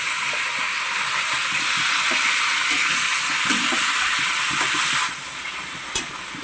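Ingredients for chicken curry roasting in a pan: a steady, loud sizzling hiss that runs throughout, with a few light scraping stirs.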